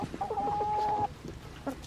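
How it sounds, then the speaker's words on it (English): A white Cochin hen clucks nearby, one long drawn-out call followed by a short second cluck, with no voices over it. "This is a white cochin."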